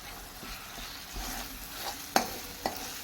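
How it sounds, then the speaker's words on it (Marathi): Curry leaves hit a pan of cooking tomato masala, producing a low sizzling fry with stirring, then two sharp crackling pops as the leaves land in the hot oil. "आता आपण त्यामध्ये घालून घेणार आहोत कढीपत्त्याची पाने"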